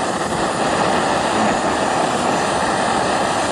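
A BRS camping gas stove burns steadily with a strong, even roar while water comes to a rolling boil, a dense continuous rushing hiss filling the whole stretch with no voices.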